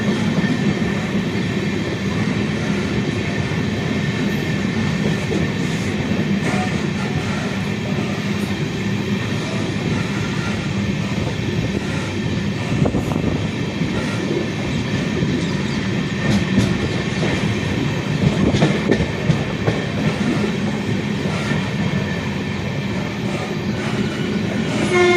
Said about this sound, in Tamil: ஸோ அந்த 3வது பிளாட்ஃபார்மில் நம்ம வண்டி போகுது.